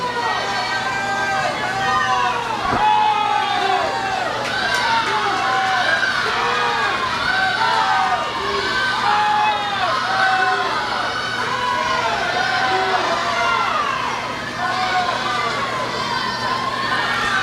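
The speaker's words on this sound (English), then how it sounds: "You can hear the Columbia City crew next to us here, rooting on their teammates." Columbia City swim team members cheering on teammates at a girls' swimming sectional preliminary meet, a dense, echoing crowd roar with shouts and whoops layered over steady pool-hall din and a constant hum, loud and sustained.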